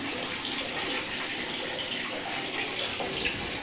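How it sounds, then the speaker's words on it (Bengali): Water running steadily from a kitchen tap in a flat, a continuous close rushing splash that holds even throughout with no talk. "কিচেনে তো এখানে এরকম করে জল আসছে"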